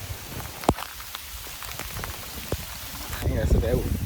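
Rain pattering steadily on an umbrella during a hike near Pettigala in Kandy, Sri Lanka, with a few sharper drops and a louder burst near the end.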